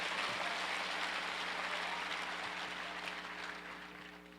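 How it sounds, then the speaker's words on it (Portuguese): Church congregation applauding throughout a bilingual sermon, a steady wash of clapping at moderate distance that slowly fades toward the end, with a faint low hum underneath. "If you agree with that, put your hands together and give God Se praise."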